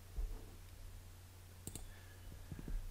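A computer mouse clicks in Canvas Workspace design software: a couple of sharp, faint, close clicks against a quiet low hum of room noise, with a few softer taps around them.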